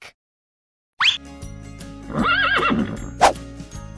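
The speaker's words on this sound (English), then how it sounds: "Horse." A horse neighs loudly after a short silence, a rising whinny with a shrill onset followed by a wavering, tremulous call over faint hoofbeats, ending in a sharp snort.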